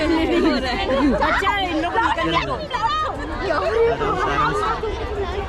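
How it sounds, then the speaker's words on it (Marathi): A large crowd of small children chatters at a flower show at Byculla's Rani Baug in Mumbai, giving a dense, steady babble of high young voices all around at close range with no pause. "लहान पोरांची खूपच गर्दी झाली."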